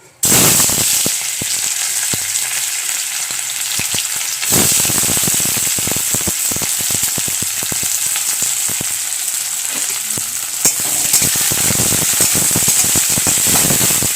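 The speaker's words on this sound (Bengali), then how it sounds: "তেলটা কিন্তু গরম হয়ে গেছে, এরপর আমি দিয়ে দেবো শুকনো লঙ্কাগুলো" Dried red chilies fry in hot oil with a loud, dense, crackling sizzle that bursts in sharply at the start and keeps going for the whole stretch, close up, with no voices.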